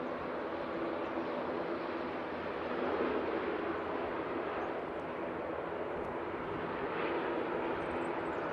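An airliner touches down in strong wind at Manchester Airport, heard as a broad, steady roar of engines and rushing air that swells slightly partway through, with no voices.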